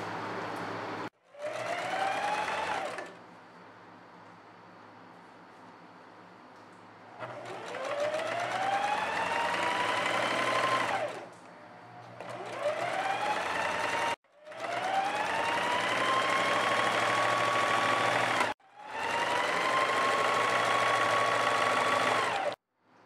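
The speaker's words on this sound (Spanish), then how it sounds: "vamos a realizar también de este lado la costura de pespunte del bolsillo" A sewing machine topstitches a pocket in several separate runs of several seconds each. Each run starts with a rising whine that settles into a steady, loud motor hum, with short pauses between them.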